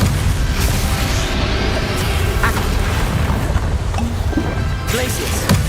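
A Confringo fire spell blasts in Hogwarts Legacy during a boss fight, a loud, sustained rumbling burst with crackling debris and a few sharp impacts layered over dense game noise.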